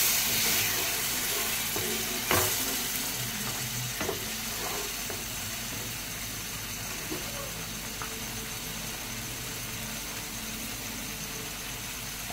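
Milk hitting a pan of fried, well-cooked spice paste sets off a steady sizzling hiss with steam, continuous and close, with a brief louder burst near the start.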